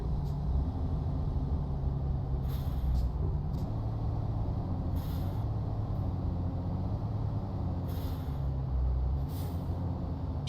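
A truck engine in Euro Truck Simulator 2 revs up and down while downshifting, a continuous low rumble with a few short hissing bursts over it.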